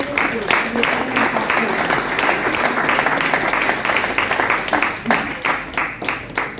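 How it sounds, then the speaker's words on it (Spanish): A church congregation claps together in lively applause, many hands heard close, with rhythmic bursts growing more pronounced toward the end and voices mixed in. "Denle un aplauso al Señor"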